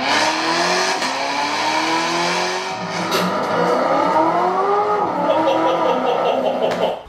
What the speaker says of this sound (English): I mean, it's definitely a V8.